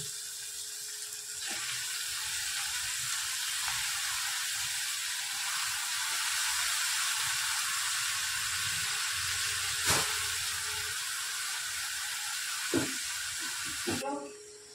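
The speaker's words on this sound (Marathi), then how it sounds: "आता आपण टाकून घेणार आहोत जे पालक चिरून घेतलेला आहे ते" Chopped spinach goes into a pan of softened onions and tomatoes, giving a steady close sizzle and hiss with a few brief clinks near the end.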